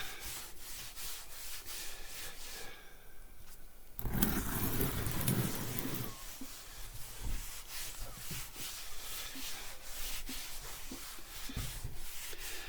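Sandpaper rubbing along a wide homemade wooden tongue and groove ceiling board, a steady close scraping that swells loudest for a couple of seconds midway, then continues as repeated rougher strokes.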